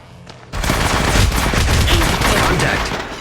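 Rapid automatic gunfire in the mobile shooter Apex Legends Mobile, a loud dense burst that starts abruptly after a brief quiet moment and continues without a break to the end.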